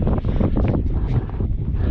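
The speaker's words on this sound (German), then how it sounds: "der Wind ist brutal." Strong wind buffets the microphone while paddleboarding on a lake (Lake Constance, during a stormy crossing), a loud, continuous low rumble with gusty surges and no speech.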